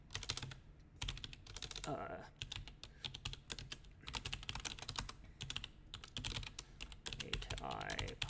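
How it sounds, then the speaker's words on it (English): Steady, fast typing on a computer keyboard that has a repeating-key fault, a dense run of clicks lasting several seconds with someone talking over it at times. "My keyboard's doing the stupid repeating thing again."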